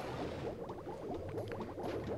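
A waterfall in the video game Crash Bandicoot 3: Warped runs as a steady bubbling, splashing wash of water, moderately quiet and continuous throughout.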